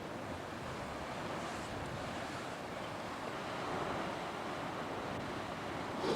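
Steady roar of ocean surf surging through a rock formation on New Zealand's South Island, continuous and fairly loud, with a gusty wind-like hiss and a slight swell near the end; no voices.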